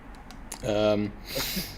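Rapid clicking of someone typing on a computer keyboard during a gaming podcast, with a voice talking over part of it and the key taps continuing underneath.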